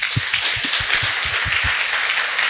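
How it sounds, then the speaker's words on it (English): Banquet audience clapping after a speech, a steady wash of applause from many hands close by, even and sustained throughout. "Please give him another round of applause."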